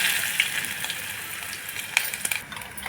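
Chopped onion goes into hot oil with cumin and curry leaves and sizzles hard in a pan, a dense, bright frying hiss that stays steady, with small crackles and pops, then eases off slightly near the end.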